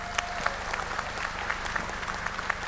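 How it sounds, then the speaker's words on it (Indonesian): Applause from a large audience at a ministers' event in Indonesia, a steady, fairly loud roll of clapping with distinct individual claps popping out rhythmically, no voices over it. "tepuk tangan"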